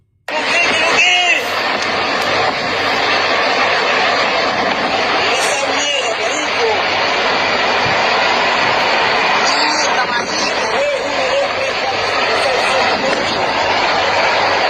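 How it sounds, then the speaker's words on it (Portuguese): Aircraft drone low overhead above Caracas during explosions and tension, a loud sustained engine roar that holds steady throughout, while voices speak over it. "aparecem aviões voando a baixa altura"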